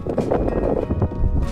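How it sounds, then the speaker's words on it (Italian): A headwind gusts across the lagoon near Venice, a loud, rough, buffeting roar that batters the microphone without a break, with no clear voice over it. "anche oggi si sta alzando il vento contrario, guardate qua che roba"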